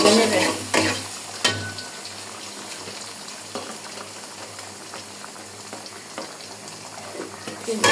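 Onions frying in a pan with spices such as cinnamon and cardamom for pulao, a continuous close sizzle with occasional stirring clatter.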